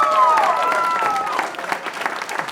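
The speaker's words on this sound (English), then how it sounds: "Another round of applause for all of the Fast Forward ambassadors." A brief round of applause for student ambassadors at a school canned food drive kickoff, opening with a sustained tone over the clapping, then thinning into scattered claps within a couple of seconds.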